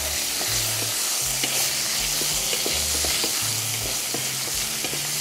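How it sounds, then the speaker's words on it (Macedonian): Bacon frying in oil in a pan for spaghetti carbonara over a strong burner: a dense, continuous sizzle with repeated rhythmic stirring scrapes throughout, no voices. "Сланината ја пржиме додека не добија златно-жолта боја."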